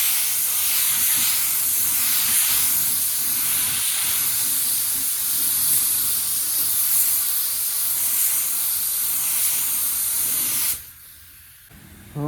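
Steady, loud hiss of a spray gun laying paint on a 1983 Chevy van cowl hood, running continuously for about ten seconds before cutting off abruptly into near silence.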